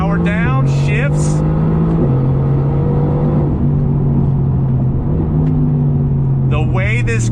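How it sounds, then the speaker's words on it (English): A 2019 Mercedes-AMG GT R engine drones steadily under load, its pitch stepping down abruptly at a few paddle shifts, with short bursts of a person talking near the start and end. "On the brakes, downshift, tip it in, nice and smooth. On exit, power down, shifts."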